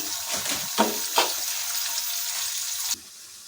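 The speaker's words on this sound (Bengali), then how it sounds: "এবার আমরা গাজর দুটোকে সুন্দরভাবে লাল লাল করে ভাজা করে নেব" Carrots fry in hot oil for a five-vegetable labra, giving a steady, close sizzle with two soft stirring knocks early on; the hiss cuts off sharply near the end.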